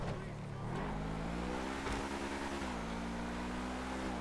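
A Grotti Veleno GT supercar engine in GTA Online, a continuous droning tone that shifts pitch as it labours on sand, moderately loud and steady throughout.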